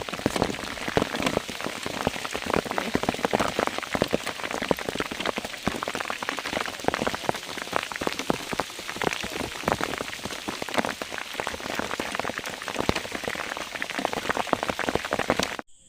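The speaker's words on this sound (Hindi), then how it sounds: "ओले ओले देखिए किस तरह से गिर रहे हैं।" Hail and heavy rain pelting the ground and gear on a mountain trek toward the Inderhar pass, a dense, steady pattering of impacts that continues loud and unbroken throughout with no voices.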